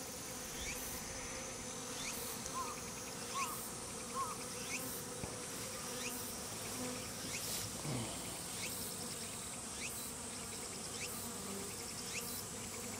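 A swarm of Japanese honey bees (Apis cerana japonica) being recombined into one hive gives off a continuous, even buzzing, soft and steady throughout, with occasional individual bees passing closer.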